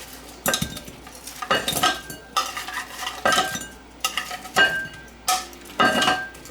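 Grilled buffalo wings tossed in sauce inside a bowl, giving repeated bursts of wet clattering and clinking, roughly one toss every second, close and fairly loud with no talking.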